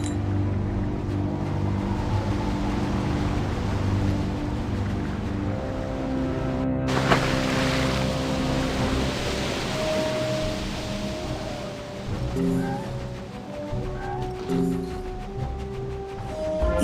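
Wind and waves at Crescent Beach in the video game Wizard101 make a soft, steady wash of ambient noise, with a sustained tonal music-like drone layered over it and a brief swell partway through.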